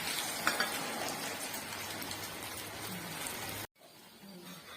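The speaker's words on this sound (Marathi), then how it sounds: "पण मी डीप फ्राय करते आहे" Carrot cutlets deep frying in hot oil in an iron kadhai, a steady dense sizzle close by that cuts off abruptly near the end, followed by quieter bubbling.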